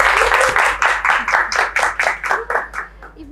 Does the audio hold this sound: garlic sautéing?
no